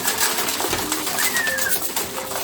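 Racing pigeons coo and call close by in a loft setting, a dense, continuous warbling with a faint higher bird note partway through, loud and without talk.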